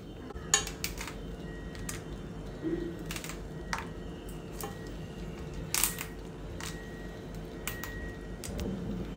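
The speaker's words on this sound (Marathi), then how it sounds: "मी सगळ्या खेकड्यांचे आधी पाय काढून घेते" Mud crabs having their legs pulled off by hand while prepared for a Malvani crab curry: scattered sharp cracks and clicks of shell breaking over a low kitchen background, close and moderately loud, without speech.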